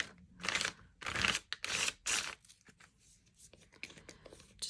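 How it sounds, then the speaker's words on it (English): A scrap of junk-mail paper scraping paint off a surface, several short dry rasping strokes up close, followed by softer faint rubbing. "And then I'm just taking a bit of paper here, scraping off some of it."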